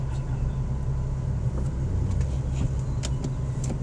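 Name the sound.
Nissan 370Z Nismo driving an autocross run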